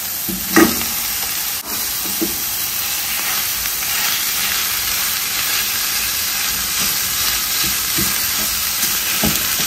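Corned beef for a plantain meat pie filling is fried in a pan, making a loud, continuous hissing sizzle with a few scattered stirring clicks.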